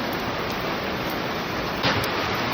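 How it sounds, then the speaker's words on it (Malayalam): Dense, steady hiss of rain falling continuously, a uniform wash of noise with no voices. "മഴ"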